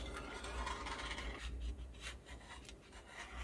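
A Daiso cutter slices through vinyl food packaging with a continuous close, dry scraping rasp that rises and fades over a few seconds.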